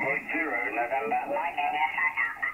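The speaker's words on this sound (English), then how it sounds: "on the 40-meter band, which is lower sideband, turning anti-clockwise takes the sound down" Single-sideband signal on the 40-metre amateur band, with a receiver tuned clockwise so the garbled voice-like pitch slides upward; a thin, band-limited radio warble plays continuously and alone.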